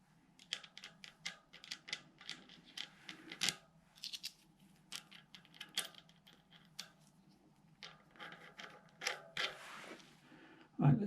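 Fittings on a vintage mountain bike being loosened: irregular close clicks, creaks and metallic ticks in scattered bursts, quiet overall, with a louder clunk at the very end.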